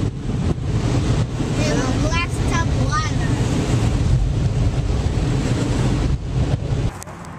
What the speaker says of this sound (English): Okay, it's time for the blower.